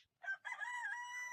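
Cartoonish chicken crowing and clucking sound effect from a video game, a single short burst that is loud and close, with no other sound around it.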